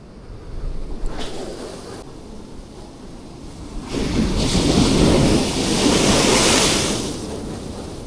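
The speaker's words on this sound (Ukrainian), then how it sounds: "тут такі хвилі, що не дає рибалити" Ocean surf breaks and washes onto the shore at a fishing spot, a steady roar that swells louder through the middle and eases slightly toward the end, with wind noise and no talking.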